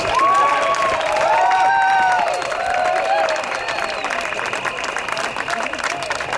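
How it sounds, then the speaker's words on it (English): Loud crowd applause and cheering at an outdoor Celebrating Israel at 70 rally in Auckland, with whistle-like tones over the clapping early on, then a steady dense clapping wash that eases slightly. "Yes, so that needs an applause."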